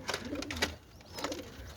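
Giribaz flying pigeons coo softly and faintly in a close, low murmur over a noisy background.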